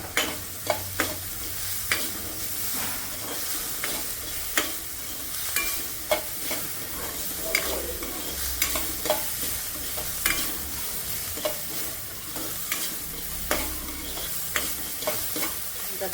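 Finely chopped onion, green chili and a small tomato frying in a pan for bun dosa, a continuous close sizzle punctuated by regular spatula taps and stirring scrapes, with no voices.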